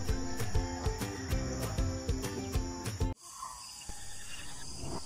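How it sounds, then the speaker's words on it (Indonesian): A night jungle beside a river at Ulu Ai, Lubok Antu, is full of insects chirping in a dense, rhythmic pulse before it drops to a softer, hissing background of forest ambience. "Boleh dengar bunyi unggas, bunyi katak, bunyi-bunyi hutan yang lain."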